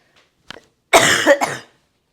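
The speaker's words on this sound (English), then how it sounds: "Sorry for the coughing." A short throat-clearing sound, then a loud, close cough burst lasting nearly a second, with a brief catch in the middle; otherwise quiet.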